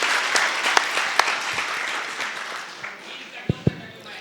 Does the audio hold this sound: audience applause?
yes